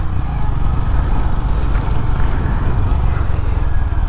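Honda CB350 RS motorcycle ridden through a colony area on city roads with speed breakers, a steady loud engine thrum mixed with wind rush from up close.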